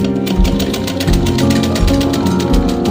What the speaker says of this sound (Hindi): फिर हम यहाँ पर इसकी ऐसे सिलाई करेंगे ऐसे।